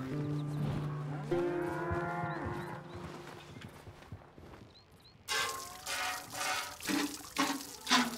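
Cattle lowing in Red Dead Redemption 2 on a ranch while cows are milked, a long drawn-out moo near the start, then louder rhythmic splashing of milk streaming into a pail.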